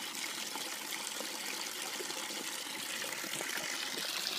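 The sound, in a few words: water running from a tap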